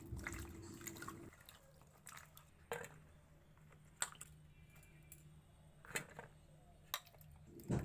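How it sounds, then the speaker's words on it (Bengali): Pointed gourds with their tips cut off are washed in a bowl of water, with soft splashes, drips and small knocks of the vegetables coming close and intermittently in a quiet room. "জলের মধ্যে দিয়ে সুন্দর করে ধুয়ে তুলে নেব।"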